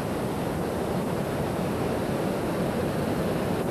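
A huge waterfall, the largest of the Sete Quedas, roars with a high-pressure torrent of river water, a dense, steady broadband rush heard close and loud, with no voices.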